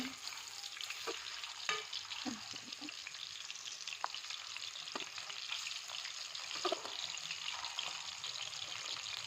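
Koftas fry in a pan as they are flipped over, making a steady close sizzle broken by light clinks and scrapes while the pieces are turned.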